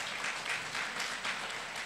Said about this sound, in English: Put your hands together for her.